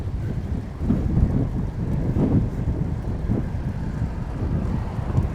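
Strong wind roaring steadily into the microphone while bicycling, a dense buffeting rumble with gusty swells and no other clear sounds.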